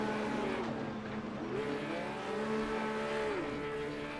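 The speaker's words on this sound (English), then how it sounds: "Got some grass skids going on here" A Porsche Carrera Cup race car in a sim racing game slides across grass at Phillip Island, engine droning steadily with wavering pitch as the tires skid, continuous and moderately loud.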